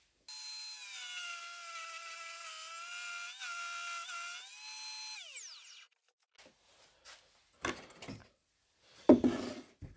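A homemade table saw whines loudly at a steady pitch as it cuts a wooden stick, then spins down and stops, followed by a few scattered knocks and clatters of handling wood.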